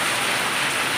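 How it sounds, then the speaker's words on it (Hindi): Heavy monsoon rain pours down in Jaipur in a dense, constant hiss with no pauses, loud and close. "एकदम बरस गई बारिश।"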